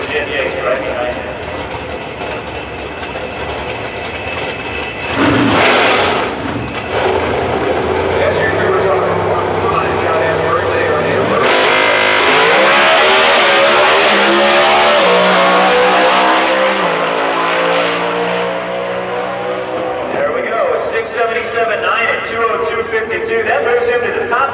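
A Pro Stock drag race car makes a qualifying run at Houston Raceway Park, its engine roar rising into a loud, sustained blast midway and then trailing off, with an announcer's voice running over it.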